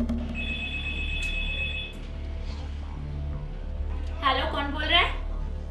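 A telephone rings with a bright electronic trill, then a voice speaks briefly over a low steady background hum.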